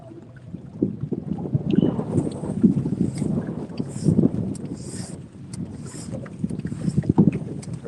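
A boat motor runs steadily on the Tennessee River on a cold day, a continuous low rumble mixed with wind buffeting the microphone and no speech.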